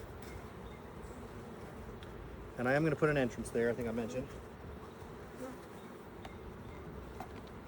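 Honey bees swarm around an open beehive during a Demaree split, a steady buzzing drone running through the clip beneath a man's close, brief talking.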